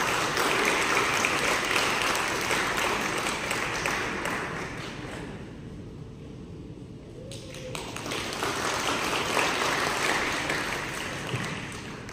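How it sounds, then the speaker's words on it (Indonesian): Audience applause after a live concert performance of a farewell song, sustained, dense clapping from a crowd that dips briefly mid-way, then swells again, with a voice speaking over it. "Mari kita sambut bersama-sama dengan tepuk tangan yang meriah, Pak Gavin dan juga Max."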